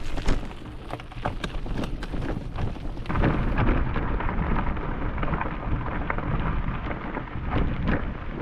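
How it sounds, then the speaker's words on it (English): Heavy rain pattering steadily with rumbling thunder in the Scottish highlands around Glen Affric, caught outdoors on a bike tour; dense, loud, continuous downpour with deep low rolls. "Got caught in the rain, all fully drenched"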